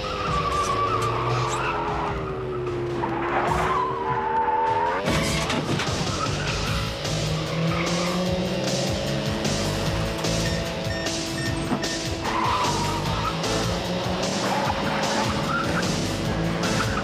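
A race car engine drones loudly and steadily while tires squeal and skid, with the engine pitch rising and falling through shifts and a sudden sharp change partway through, continuous and close.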